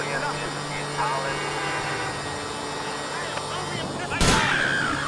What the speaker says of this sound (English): Being shot at.